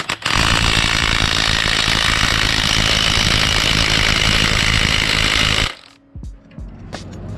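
A powerful impact driver rated around 750 foot-pounds hammers continuously on a seized exhaust pipe fitting, a loud, dense rattling burst lasting several seconds before cutting off to a few faint clanks.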